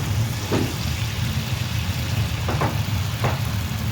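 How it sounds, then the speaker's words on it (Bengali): Honey chicken pieces fry in hot oil, a dense unbroken sizzle and bubbling, with a few faint clinks, heard alone and fairly close. "তো আমি এটা আস্তে আস্তে তেলে ছেড়ে দিচ্ছি, একটা করে ভেজে নেব"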